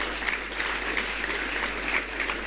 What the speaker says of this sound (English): So a big round of applause for our partners in Enterprise